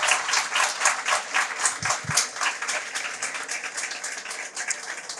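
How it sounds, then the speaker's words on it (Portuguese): Sustained audience applause for the guest, writer Marina Colasanti, at an interview event: dense, steady clapping fills the whole stretch without pause, with no voices over it. "vamos pedir uma salva de palmas para ela"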